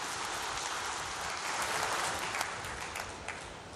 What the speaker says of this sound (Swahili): Na katika hili naombeni tujipigie makofi tena mengi sana.